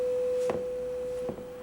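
A steady pure electronic test tone holds one pitch at a quiet level, with two soft clicks where it is restarted.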